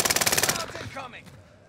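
Rapid automatic gunfire in Call of Duty: Warzone on Rebirth Island, a close, loud burst of evenly spaced shots for about half a second, then a short rattling tail as the shooting stops.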